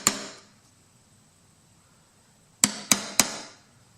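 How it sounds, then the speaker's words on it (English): A hammer striking a center punch on a metal ammo can, one sharp ringing tap, a pause, then three quick metallic taps in a row, each with a short bright ring. "try and do a center punch here just to locate the holes"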